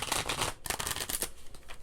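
A deck of Pandemic Legacy Season 2 board game cards being shuffled close by, a dense riffling rush with a brief break midway.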